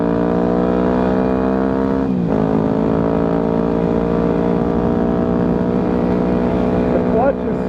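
A 2009 Yamaha WR250F dirt bike is ridden, its single-cylinder engine holding a loud, steady buzzing drone close to the rider, with a quick throttle blip and gear change near the two-second mark.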